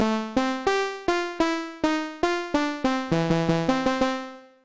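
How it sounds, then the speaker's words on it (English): Bright, buzzy sawtooth harp synth keys play a short plucked melody of separate notes, ending in a quick run and a final ringing note fading away. "So I had this little synth instrument, synth keys. I took a sawtooth harp,"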